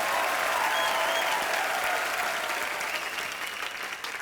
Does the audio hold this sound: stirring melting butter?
no